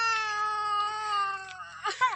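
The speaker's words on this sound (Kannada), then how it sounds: "ಇಲ್ಲಿ ನೋಡಿದ್ರೆ ನವಿಲು ಕೂಗ್ತಾಯಿದೆ" A peacock calling far off around a home, a long drawn, wailing cry with a harmonic tone that fades, then a shorter sharp call near the end.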